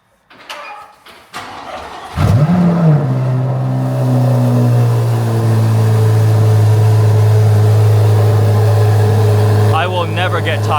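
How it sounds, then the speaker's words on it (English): A Chevrolet Corvette Z06 with the LT6 flat-plane-crank V8 cold-starts after a few clicks: the starter catches, the engine flares to a loud rev, then settles into a steady, high fast idle close by. "But first, cold start."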